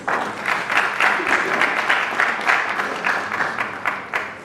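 Audience applause at a Durham mayoral debate, a steady burst of many hands clapping in a hall, fairly close and continuous with slight pulses throughout.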